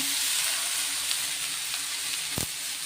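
Palak spinach goes into onions already sautéing in a pan for keerai poriyal. A steady, close sizzle of frying fills the whole stretch, and no one speaks.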